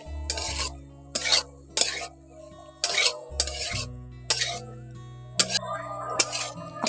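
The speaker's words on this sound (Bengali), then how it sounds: "আলু সয়াবিনগুলো দিয়ে মশলার সঙ্গে ভালো করে একটু মিশিয়ে নিচ্ছি।" Fried soybean chunks and potatoes stirred into masala in a pan for a soybean and egg dish, with repeated scraping and clanking bursts of a spoon against metal at an irregular pace over a low background hum.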